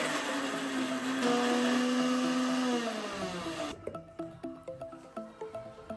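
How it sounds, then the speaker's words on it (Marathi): An electric mixer grinder blitzes paneer into fine crumbs, its motor whining at a steady high pitch before the jar goes quiet and leaves a few rattling knocks and clatters. "पनीर आता आपण मिक्सरला बारीक करून घे"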